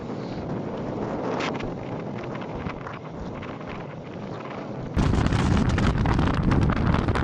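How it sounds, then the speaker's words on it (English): Hurricane-force storm wind roaring along the Cornish coast, a dense continuous rumble and buffeting with microphone wind noise, growing louder and harsher after a cut midway, with no voices. "Hurricane Franklin swept across the Cornish coast, churning up a white, snow-like foam amidst the chaos."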